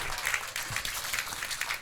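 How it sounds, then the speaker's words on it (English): Crowd applause rises from the stands at a junior college softball ballpark after a district championship game, a steady, moderately distant wash of many hands lasting the whole stretch with a faint voice underneath. "The Lady Pirates of Independence getting a nice round of applause from the people here at the ballpark"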